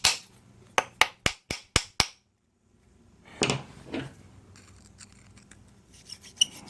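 A hand tool is tapped as a hammer during a brake strip of a Honda ATC front brake, giving six sharp, evenly spaced metallic knocks close by, then a pause and softer scraping and clatter of parts.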